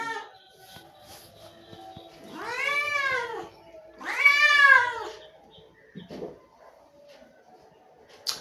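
A cat lets out two long, drawn-out meows close by, each lasting about a second or more, followed by a brief soft sound and quiet.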